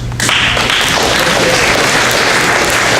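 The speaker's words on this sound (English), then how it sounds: "Audience, we'd please like to remind you to please hold your applause" A school student vote assembly audience applauding after an election speech, a dense, loud wash of clapping hands that starts abruptly and holds steady throughout.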